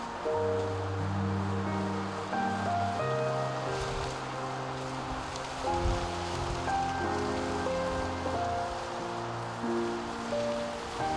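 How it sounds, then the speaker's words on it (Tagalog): Steady rain falls in a forest, a dense, even patter that continues throughout, mixed with sustained musical tones. "Sana tumigil na yung ulan na to."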